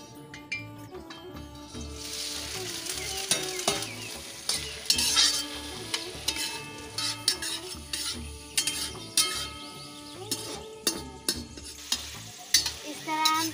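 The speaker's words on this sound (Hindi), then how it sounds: "अब हम इसमें प्याज को तल लेंगे।" Onions fry in a kadai with a little oil, sizzling steadily while a utensil stirs and clinks against the pan in repeated scrapes, close and moderately loud, with no voices.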